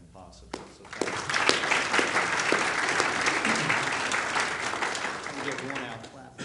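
An audience at a law school Martin Luther King Jr. commemorative program breaks into loud, sustained applause after a speaker's thanks, swelling quickly and holding steady for several seconds before beginning to fade.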